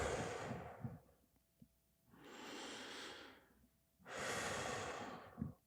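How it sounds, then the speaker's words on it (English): Slow, deep breathing out, three long airy exhales with short pauses between them, soft and close with no talk. "So, breathe out."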